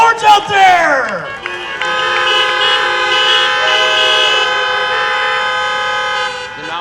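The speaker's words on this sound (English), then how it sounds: "Let's hear those horns out there." Car horns honk at a high school freshman drive-in welcome celebration, a few short toots then a long sustained chorus of overlapping horns blaring together outdoors.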